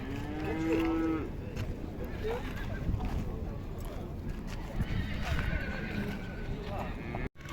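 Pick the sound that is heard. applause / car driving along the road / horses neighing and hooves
horses neighing and hooves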